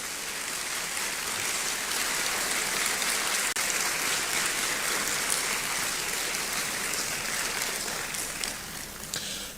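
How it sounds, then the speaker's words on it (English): A large ceremony audience applauds continuously for nearly ten seconds, a dense, even wash of clapping at a steady level that fades slightly near the end, with no speech over it. "Shall we do one more big round of applause to appreciate him?"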